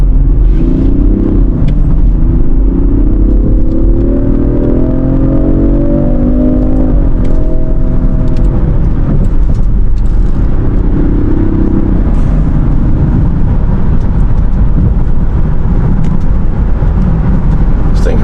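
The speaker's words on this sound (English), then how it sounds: "This thing has more of a rumble to it now that's in dynamic" Deep engine rumble from a 2025 Range Rover Sport P460e driven in dynamic mode, loud and close, rising in pitch as it accelerates for several seconds, then settling into a steady low drone with road noise.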